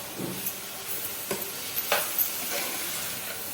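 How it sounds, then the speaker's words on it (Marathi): Cluster beans lightly frying in a home kitchen pan, a soft steady sizzle with occasional stirring scrapes and taps, near and without speech. "लाईट तर फ्राय करून घेते मस्त गवार"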